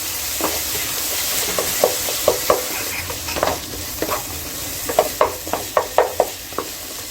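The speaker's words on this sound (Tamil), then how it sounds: "இப்போ வதக்கும்போது சூப்பராக அது நல்லா வதங்கிடும்." Tomatoes sautéing in a pan for a squid gravy, with a steady sizzle under a series of sharp scraping stirs that grow more frequent toward the end; no talking.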